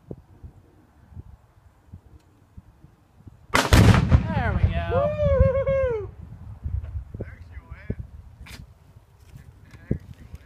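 A rifle shot sets off a Tannerite target outdoors in a field. A sudden loud blast rolls into a long rumbling tail, followed by excited voices and then quieter outdoor ambience.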